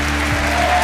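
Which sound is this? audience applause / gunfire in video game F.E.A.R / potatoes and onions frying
audience applause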